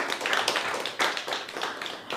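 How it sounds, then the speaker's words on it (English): Short burst of audience applause for a performer at an open mic, a brisk patter of clapping hands from a small crowd, fairly close and moderately loud. "Another round of applause for Brandy"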